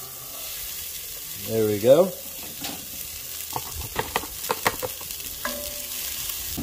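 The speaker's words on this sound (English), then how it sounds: "Got 8 ounces of diced onion going in." Diced onion, eight ounces, sizzles in a dry cast iron pan over direct heat on a Weber grill. A steady soft hiss runs throughout, with a short spoken remark early on and a few light scraping clicks afterward.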